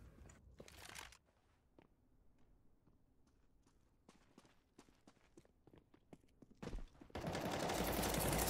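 Gunshots in Counter-Strike: Global Offensive, a few sharp loud bursts at the start and end framing quieter stretches of crunching footsteps and scattered clicks.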